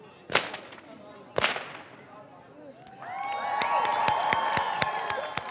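Two sharp, loud whip cracks ring out at the Chalandamarz tradition in Zuoz, Engadin, followed by a lively jangle of bells with further crisp cracks and distant crowd noise.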